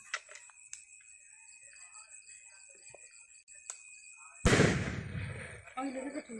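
A homemade calcium carbide firecracker bursts with a sudden loud blast near the middle, followed by a decaying rumble; light background noise and a steady tone run before it, with faint activity afterward.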